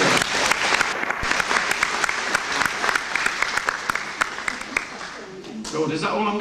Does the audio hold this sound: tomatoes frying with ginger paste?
no